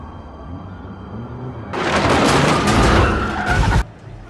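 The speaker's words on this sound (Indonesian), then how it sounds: "hampir tertabrak sebuah mobil yang menerobos masuk ke dalam" A car skids and crashes its way into a church, a sudden loud burst of screeching and rumbling crash noise lasting about two seconds over a steady low background hum, then cutting off abruptly.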